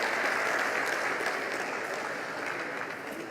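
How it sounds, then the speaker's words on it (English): Steady, dense applause from an audience at a university inaugural lecture, continuous and fairly loud throughout with no clear gaps, easing off slightly toward the end. "Somebody should please give a clap of it."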